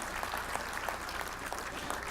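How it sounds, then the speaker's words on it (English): A crowd at a fundraising event applauds a pledged donation, a steady, busy patter of many hands clapping throughout the short stretch. "Give that a round of applause"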